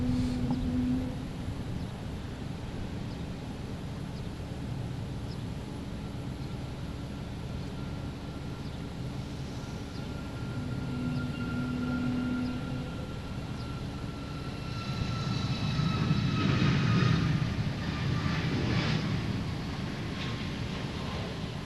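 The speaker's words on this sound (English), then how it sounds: "Next taking off here, we have Air Canada heading to Montreal. 737 MAX 8." An Air Canada Boeing 737 MAX 8 takes off at Boston Logan, its engine roar a steady distant rumble that swells louder toward the end, with no voices over it.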